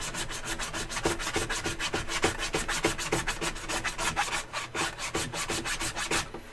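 A hand file is drawn back and forth across epoxy putty in steady, rapid rasping strokes, about four per second, close up and with no voices.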